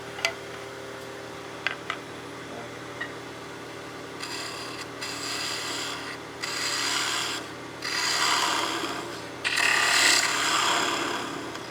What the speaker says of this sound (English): We'll bring our spindle gouge in and do some light cuts to clean that up.